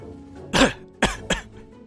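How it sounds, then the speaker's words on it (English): Three harsh coughs close by, one longer then two quick ones, with no talking. "you cough."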